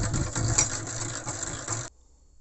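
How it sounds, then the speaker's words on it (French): Centrifugal honey extractor spinning full of honeycomb frames, a steady mechanical whirring hum close by that cuts off abruptly near the end. "avec la force centrifuge qui tire le miel sur l'extérieur et qui va ensuite se déposer au fond"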